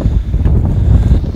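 Strong wind gusts of force 7 buffet a sailboat at sea, a heavy, continuous low roar of wind against the microphone with no other sounds.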